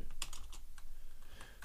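Quick, close clicks of typing on a computer keyboard, uneven bursts of keystrokes with short gaps between them, fairly quiet and with no talking.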